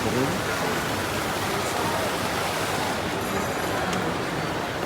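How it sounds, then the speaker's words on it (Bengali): A fountain inside a shopping mall in Cairo, a steady broad rush of falling water heard nearby, with a person talking over it. "কত সুন্দর ঝর্ণা আছে"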